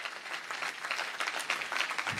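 Brief burst of audience clapping at a student movement gathering on Muslim scholarships, moderately faint and uneven, a scattered crowd applauding for a couple of seconds.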